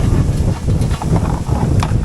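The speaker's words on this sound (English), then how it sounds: "So it's very windy" Steady, loud wind in Lincolnshire buffeting the microphone, a continuous low roar with gusts rising and falling throughout.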